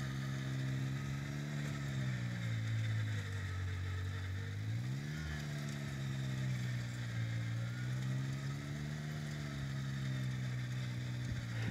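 A Kubota BX subcompact tractor engine working hard while tilling and rotovating a garden, a steady loud drone that dips and rises in pitch briefly as the load changes, continuous throughout with no voices.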